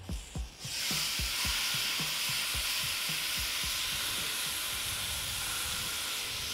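Skirt steak hitting hot grill grates on a Weber kettle, a few clunks as the meat is laid down, then a loud, steady sizzle and hiss that fills the rest without talk.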